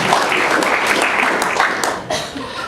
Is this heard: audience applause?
yes